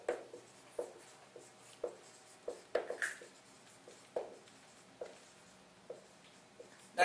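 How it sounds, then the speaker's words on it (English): Marker or chalk writing on a board during a chemistry review lecture: a quiet run of short, irregular taps and strokes, close and faint, with no talk. "Let's write down here, activation energy as EA."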